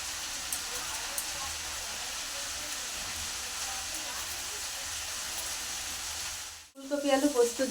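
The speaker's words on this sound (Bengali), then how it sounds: "বরবটি আলু ভাজাটা হচ্ছে ওটা একটু নাড়ি" Green beans and potatoes fry in a pan with a steady, close sizzle that runs unbroken for most of the clip, then cuts off briefly before a voice begins speaking at the end.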